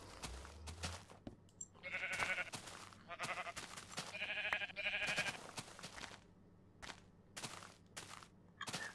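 Sheep in the video game Minecraft bleat in several short, nasal baa calls spread across the span, over quiet game background with occasional clicks and soft thumps.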